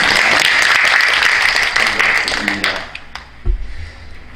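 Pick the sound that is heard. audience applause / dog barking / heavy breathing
audience applause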